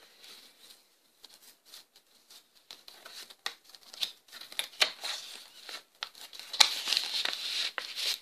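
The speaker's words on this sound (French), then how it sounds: "Je vais ouvrir la pochette, parce que je vois qu'il y a une petite pochette à ouvrir." A small paper pouch being opened by hand, with soft crinkling and tearing rustles that start sparse and faint, then grow busier and louder toward the end, close up and without talk.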